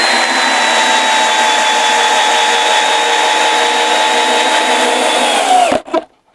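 A cordless drill-driver in first speed drives a 6x100 screw with a PZ3 bit, giving a steady loud motor whine that holds for several seconds, then stops abruptly with a short clatter.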